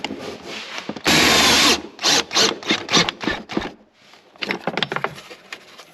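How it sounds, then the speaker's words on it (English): A right-angle drill drives a self-tapping screw during a heater install on a Polaris Ranger, giving one loud sustained burst followed by a series of short choppy pulses and clicks, close up. "you can barely fit a right angle drill in here"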